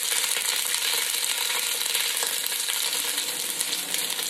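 Onions frying in a pan for Thai beef noodle soup, a steady, dense sizzle that holds evenly and fairly loud throughout with faint crackles, no talking.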